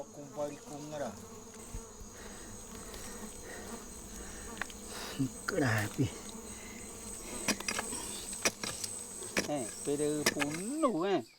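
Wasps and bees confined together buzz steadily in close, wavering drones that rise and fall in pitch, growing louder and busier toward the end, with a few sharp clicks and brief rustles.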